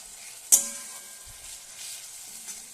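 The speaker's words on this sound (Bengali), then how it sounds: "রসুনটাও একটু ভালো করে ভেজে নেব" Garlic fries in oil with a soft, steady sizzle, opened by a sharp clink of a utensil against the pan, then a faint stir, and no voices.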